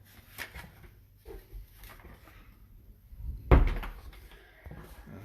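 A hallway closet door in a house creaks and thumps open with a sudden loud knock, after quieter shuffling and handling sounds nearby.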